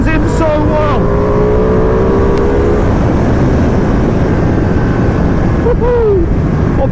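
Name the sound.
2020 Ducati Panigale V2 motorcycle being ridden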